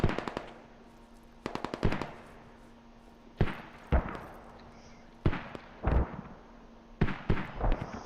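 Enemy mortar fire in a multiplayer military video game: clusters of sharp, booming detonations arrive in irregular bursts, some rapid and stuttering, others single heavy blasts, fairly close and loud over a low steady background hum.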